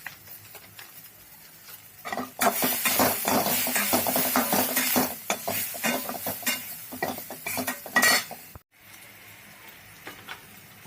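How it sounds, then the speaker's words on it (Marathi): A spoon scrapes and clatters against a pot of vegetable pulao with garam masala, a dense run of close stirring and sizzling that rises abruptly, churns for several seconds, then cuts off into quieter simmering. "पुन्हा एकदा चांगलं हलवून घ्यायचं।"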